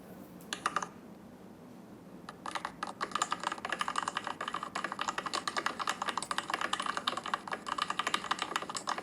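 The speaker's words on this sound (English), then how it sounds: "I guess it's typing. Oh, The keyboard." Rapid typing on a computer keyboard, a few isolated key clicks at first, then a dense, steady run of clattering keystrokes close by, with no talking.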